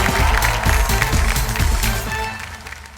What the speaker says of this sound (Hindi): जोरदार तालियों के साथ इंदर साहनी फ्रॉम दिल्ली।